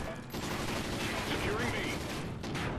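Light machine gun fire rattles in a multiplayer shooter Domination match, a loud, continuous burst of rapid shots with whizzing tracer-like sweeps, under a player's talk.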